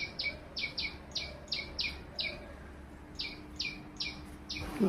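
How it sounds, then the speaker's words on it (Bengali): A bird repeats a short, bright chirping call about a dozen times in a quick, regular rhythm, moderately close over a quiet background. "তো পাখির ডাক শোনো"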